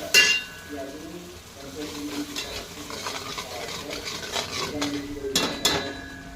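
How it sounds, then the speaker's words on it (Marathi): Tadka tempering added to sweet-sour Marathi varan dal in a pot, with a brief sizzle, metal spoon stirring and clinks against the pot, close by with faint voice in the background. "हा वरणाचा थोडासा असा तडका देऊया"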